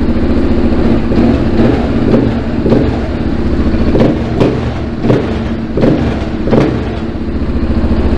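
A supermoto motorcycle engine on Majorca, Spain, loud and close, with a throbbing idle punctuated by repeated sharp revs that rise and fall about every second.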